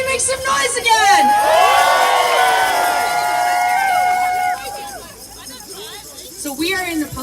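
A crowd at a live event cheers, whoops and shouts together in a loud, sustained roar that fades after a few seconds, leaving scattered calls and voices.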